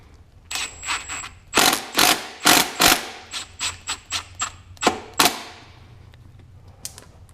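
Hand ratchet tightening the bolts on a billet end cap of a Husqvarna FE 501s, a close series of rapid clicking bursts in an uneven rhythm, about a dozen strokes before it falls quiet.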